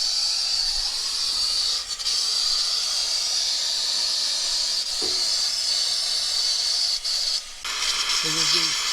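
A torch hisses steadily and close while a valve is soldered onto a gas water heater, a continuous broadband rush with brief dips and a voice speaking near the end.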